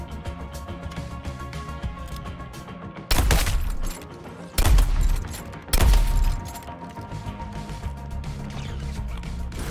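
Three heavy grenade blasts in the Suicide Squad: Kill the Justice League game, loud booming bursts about a second apart rising over an ongoing bed of rattling gunfire and game noise, with no voices.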